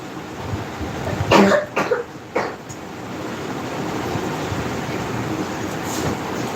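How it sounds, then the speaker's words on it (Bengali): A person coughs about three times in quick, harsh bursts near the start, then a steady low rumble like a moving train continues alone. "তুই কাশি বাপরে বাপ"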